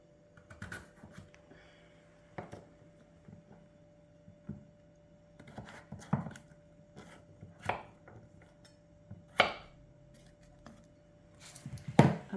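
A knife chops butternut squash on a board in a home kitchen, with irregular, distinct thuds spaced a second or two apart, crisp and close against a quiet background hum.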